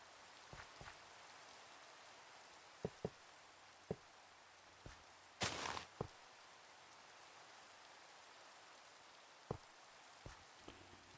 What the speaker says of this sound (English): look, it's starting to rain even